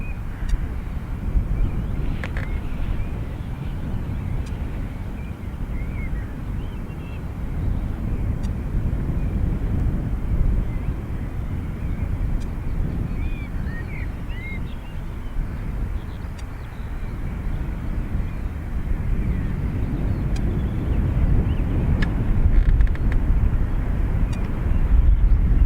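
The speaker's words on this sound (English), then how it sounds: "So you're looking at a BA Embraer off to London City." British Airways Embraer jet taking off from Dublin Airport's north runway for London City: a continuous, heavy engine roar lasting the whole stretch, steady with a gentle rise toward the end, distant-sounding and free of talk.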